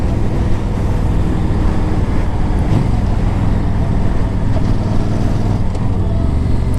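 A 2009 Yamaha V Star 1300 motorcycle on the move, with a constant loud engine drone mixed with strong wind rush over the microphone and no talking.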